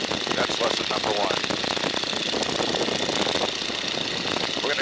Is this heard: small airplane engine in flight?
yes